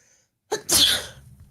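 One loud sneeze up close, a quick intake followed by a sharp breathy burst that trails off, with no talking around it.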